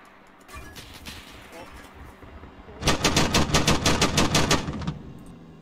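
Arma 3 gunfire: a few scattered distant shots, then a loud, close burst of rapid automatic fire lasting about two seconds, with people talking over the combat.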